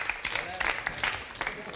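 A studio audience at a youth television game show claps in sustained, dense applause, fairly loud and steady, with a host speaking over it.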